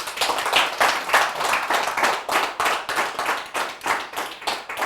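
An audience claps steadily at a ceremony honouring a speaker, a dense run of hand claps coming in loud regular swells with no voices over it.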